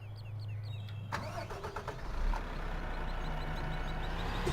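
A combine harvester's engine in Farming Simulator 2015 cranks with a short rattling churn, catches, then settles into a steady mid-pitched idle drone, heard alone and fairly close.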